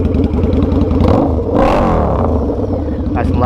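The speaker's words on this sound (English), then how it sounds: "These are not factory pipes. It's a pretty loud bike, so be ready." A loud 2005 Harley-Davidson V-Rod with aftermarket Reinhardt racing pipes idles close by with a deep, throaty exhaust, then revs sharply upward and settles back into a rumbling idle.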